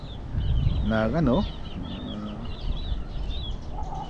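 Backyard breeder chickens of street breed cluck with a short wavering call near the middle, amid outdoor bird chirps and faint voices.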